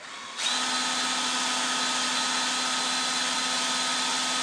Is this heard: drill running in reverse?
yes